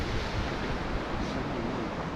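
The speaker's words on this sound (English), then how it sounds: "These waves are ripping right. Here's a couple of big ones come in." Waves breaking at a deep old harbour once used by fishing boats, a steady full roar of surf with wind rushing across the microphone, no talk.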